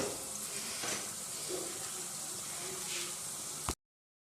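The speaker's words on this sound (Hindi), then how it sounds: "अभी हम इसको इसके अंदर फ्राई करेंगे लाइट ब्राउन होने तक" Semolina frying in a pan for halwa, a steady broadband sizzle with faint stirring scrapes, close and continuous for several seconds before cutting off abruptly.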